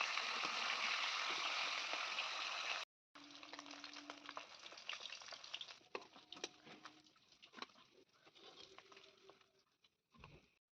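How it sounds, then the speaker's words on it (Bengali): Rui fish rubbed with salt and turmeric frying in oil, a steady crackling sizzle that cuts out briefly and returns with intermittent pops and spatters. "আর এদিকে দেখো মাছটা এবার ভাজবো।"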